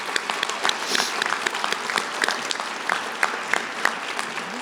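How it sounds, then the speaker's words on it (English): An audience at a University of Idaho commencement ceremony in Idaho Falls applauds graduates, a steady, dense wash of many hands clapping at close range with no voices over it. "Let's give them one more round of applause."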